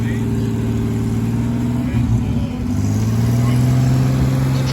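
Vintage 1930s cars crawl through traffic on the Hershey field, steady low engine hum and idle from several nearby vehicles, one revving slightly mid-way, with faint voices underneath.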